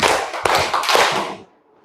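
A classroom of students claps together on a teacher's cue, a few sharp, near, overlapping claps bunched into a short burst that quickly fades into silence.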